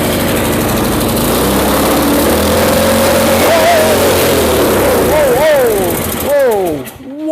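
Small engine on a piece of equipment being repaired, running loudly and close with a rough mechanical drone whose pitch rises and falls as it revs, dropping off sharply near the end.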